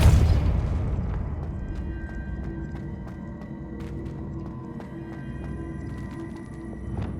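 A Confringo explosive spell going off in Hogwarts Legacy: a heavy low boom at the start that rolls off into a sustained rumble, with scattered small pops and clicks over the game's background.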